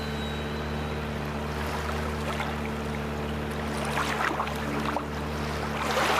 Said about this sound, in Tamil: காத்து பலமா அடிக்கிறதுனால தான் இந்த மாதிரி ஆடுது